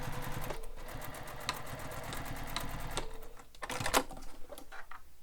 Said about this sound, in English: So I backstitched at the top a few times just for that extra reinforcement.